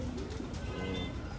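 Jan Aarden racing pigeons coo steadily in a loft, a dense, continuous layer of low calls close by with no speech.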